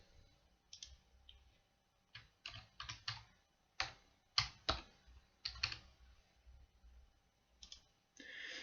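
Calculator keys are pressed one after another in short, irregular clusters of quiet, close clicks and taps, with brief gaps between the bursts.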